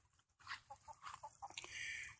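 Chickens cluck close by in a backyard, with several short, choppy clucks over about two seconds and no talk.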